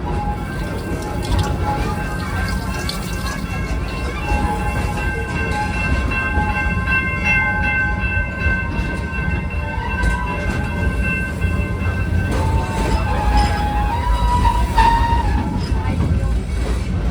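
A Busch Gardens Tampa Bay park train rolling along under way, a continuous loud rumble of wheels and carriages with faint squealing metallic tones over it.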